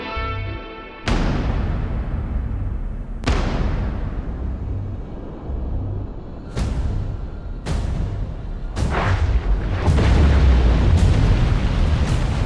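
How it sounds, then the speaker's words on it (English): Series of depth charges exploding in World of Warships aboard the USS Slater destroyer escort, about six heavy booming blasts with sharp onsets and long rumbling decays, coming faster and overlapping toward the end. "Depth charges are still among the most effective weapons against submarines."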